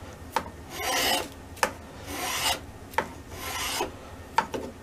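A hand tool shaves wood on the corner of a Norwegian M1912 Krag carbine handguard, four rasping pull strokes each opened by a sharp click, close and steady, with no talk.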